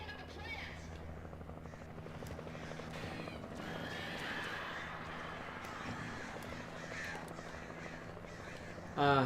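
Crows caw repeatedly through the eerie soundscape of the video game Alan Wake, their harsh calls layered over a constant low mechanical drone, fairly quiet and sustained until a louder hit at the end.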